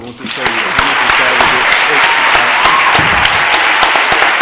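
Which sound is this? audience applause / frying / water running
audience applause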